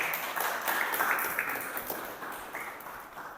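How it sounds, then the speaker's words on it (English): An audience at a religious lecture or class applauds. The clapping is a dense, even wash of many hands that fades gradually toward the end, with no clear voices on top. "And a big round of applause for Vivian, please, everyone."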